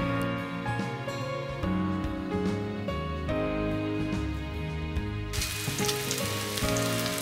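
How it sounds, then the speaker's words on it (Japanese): Salmon fillets sizzle skin side down in an oiled frying pan over medium heat, giving a steady close frying hiss with background music running throughout. "フライパンに油を熱し、鮭の皮目を下にして並べて中火で焼きます。"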